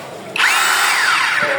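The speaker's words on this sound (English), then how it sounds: "This is drilling." Makita cordless hammer drill spinning up after a brief pause and running steadily at full speed, loud and close with a high whining pitch that shifts slightly, no talk.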